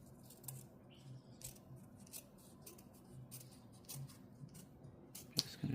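Scissors trim material for an indoor herb garden, a quiet series of crisp snipping and rubbing blade sounds close by, irregular in rhythm, with a sharper clip near the end.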